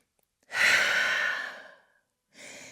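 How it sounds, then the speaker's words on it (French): Deep audible breath during a downward dog yoga pose, one long airy exhale of about a second and a half, then the start of a softer second breath, close and isolated. "Grande respiration en chien tête en bas."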